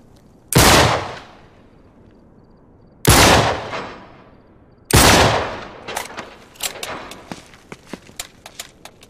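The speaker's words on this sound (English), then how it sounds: "Back up, I'll shoot the lock." Gunshots from Uncharted 3 fired at a lock: three loud, separate blasts with ringing decay a few seconds apart, then a burst of rapid sharp cracks like returning gunfire.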